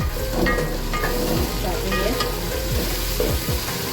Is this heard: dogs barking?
no